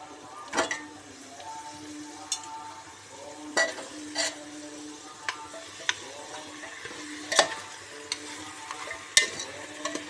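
Mutton pieces sizzle in hot spiced oil in a pan while a spoon repeatedly scrapes and stirs them, giving a soft frying hiss broken by sharp irregular clinks and scrapes close by.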